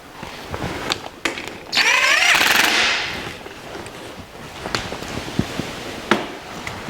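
New powder-coated lock nut being run onto a bolt during engine and transmission teardown work, with a loud continuous burst of impact-wrench whirring and rattling for about a second, among scattered clanks and taps nearby.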